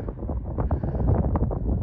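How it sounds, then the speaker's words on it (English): Steady wind buffets the microphone with a low, rumbling roar that continues throughout, close and fairly loud. "it might be a little windy"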